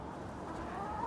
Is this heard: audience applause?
no